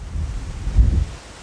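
Gusty wind buffets the microphone in Finnish wilderness near a remote open hut on a windy hiking morning, a steady low rumble that swells briefly into a stronger gust before easing.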